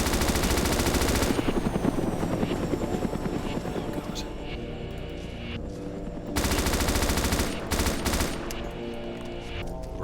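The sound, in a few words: M249 machine gun firing in video game Arma 2 DayZ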